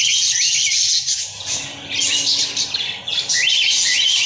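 Alexandrine parakeets screech and chirp loudly and close by, in repeated harsh bursts with brief gaps and overlapping calls.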